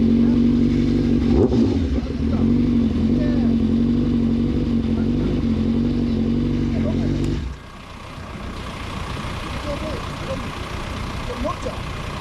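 A loud tuned Honda CBR1000RR motorcycle engine idles and revs with a deep rumble for several seconds, then cuts out, leaving quieter background noise and faint clatter.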